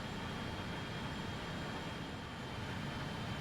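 A steady, even roar from the engines and APU of a regional jet in Microsoft Flight Simulator, constant and unbroken, heard alone without voices.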